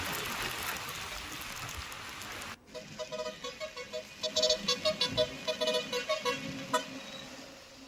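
Moderate rain from Cyclone Fengal's outer bands falls in Nellore district, Andhra Pradesh, a steady hiss that gives way to a street scene with rapid repeated car horn toots over the wet background.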